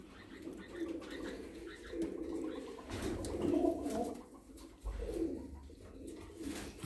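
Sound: pigeons cooing

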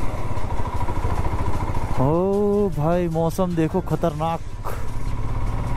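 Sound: motorcycle riding

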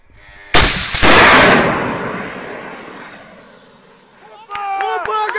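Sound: gunfire shooting at an Armenian helicopter

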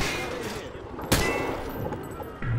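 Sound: gunfire at range targets in Call of Duty video game

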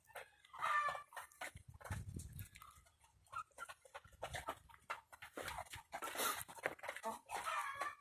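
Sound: ispenç rooster and chickens clucking

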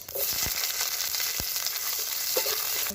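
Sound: chopped onions frying with cumin

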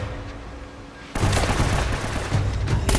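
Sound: gunfire in a video game

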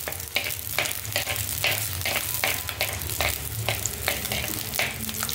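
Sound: shallots sautéing in pan for crab curry

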